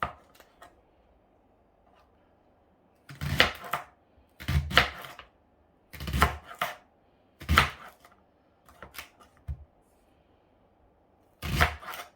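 A knife chops leeks and potatoes on a chopping board for potato and leek soup, in short clustered bursts of firm thuds separated by quiet pauses, close and fairly loud.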